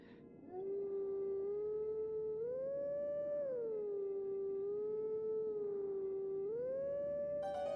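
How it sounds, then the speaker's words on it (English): Wolf Link from the video game Zelda: Twilight Princess howls in one sustained, loud, tonal wail that rises and falls in pitch over several seconds, with no talking over it. "I'm getting better at howling"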